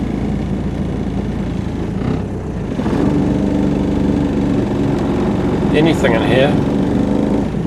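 A 1991 Toyota Hilux LN106 runs with a constant rough engine drone and cabin vibration while someone speaks briefly over it.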